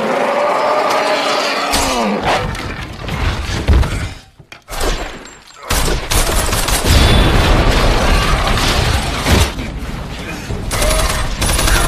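Gunfire and crashing impacts from a fight scene in the film I Am Legend, where a man battles zombie-like Darkseekers; loud, dense bursts of shots and shattering noise fill most of the clip, briefly dropping out around the middle.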